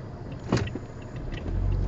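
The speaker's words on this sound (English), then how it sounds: "Yeah, one more car is coming behind." A car on a Brampton road in Ontario approaches and swishes past nearby, a brief tyre-and-engine whoosh followed by a low rumble as traffic noise continues.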